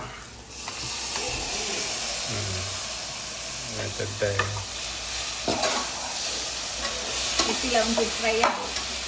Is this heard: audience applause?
no